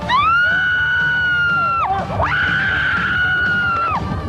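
Riders on the Viper roller coaster at a theme park let out loud, sustained high-pitched screams in two long waves with a brief dip between, a crowd of voices wailing together close by.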